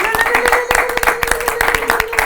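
An audience applauds at a live K-Game show recording: dense, steady clapping that stays loud and close throughout, with a sustained tone and some voices mixed in.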